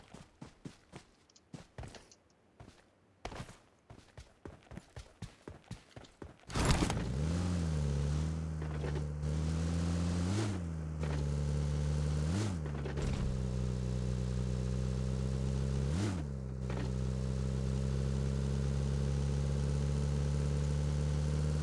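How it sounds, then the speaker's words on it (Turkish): A vehicle engine in PUBG Mobile rises abruptly after a stretch of quieter thumps and footsteps, then holds a loud, steady droning rumble with a few brief dips in pitch, nearby and with no talk over it. "Bir dakika araba mı duydum."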